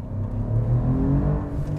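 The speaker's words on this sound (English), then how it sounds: "So I'm gonna floor it in N mode just so we can hear it." Alfa Romeo Giulia Quadrifoglio, a 2020 sport sedan, revs with the throttle floored in N mode, giving a smooth, muted engine rumble that swells and holds, heard from inside the car.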